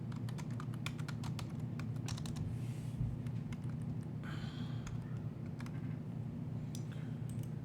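Quick, irregular keystrokes clatter on a computer keyboard while a user types in the vi editor on Linux, close and clear against a steady low hum.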